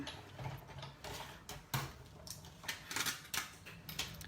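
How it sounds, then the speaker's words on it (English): A hand-cranked die-cutting machine rolls a die through card stock for a handmade greeting card, giving a close, irregular run of mechanical clicks and ratcheting ticks with a few sharper snaps, and no talking. "we're going to die cut, roll it through the machine here."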